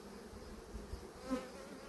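Honeybees buzzing at a hive during swarming season, a low steady hum close by with a brief louder pass of a single bee, faint and alone without talk.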